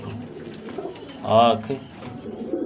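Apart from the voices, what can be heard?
parwaazi pigeons cooing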